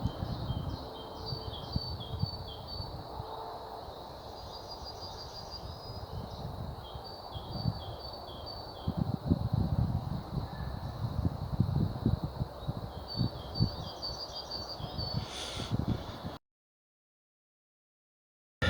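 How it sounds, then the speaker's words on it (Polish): Birds sing in a forest, faint high chirps and calls repeating over a steady outdoor hush with light rustling, no voices, before the sound cuts off near the end. "Więc posłuchajcie ptaków trochę."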